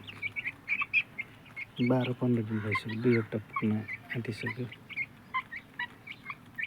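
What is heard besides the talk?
broiler and Giriraj chicks chirping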